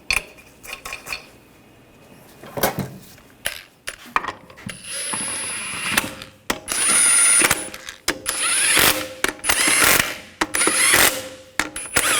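Ratchet clicking in bursts as wheel lug nuts are run down on a 2004-2012 Chevrolet Colorado, with intermittent metallic clatter of tools and parts between passes, close and fairly loud, no voices.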